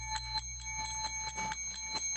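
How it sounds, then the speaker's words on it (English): A small bell rings in repeated quick strikes, about eight evenly spaced dings with bright sustained overtones, moderately near and alone without talk. "Ring the bell again."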